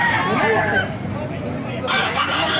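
A Boston Sweater gamefowl rooster crows loudly and close by, one long drawn-out call that fades and is followed by a second rising crow, with faint voices around.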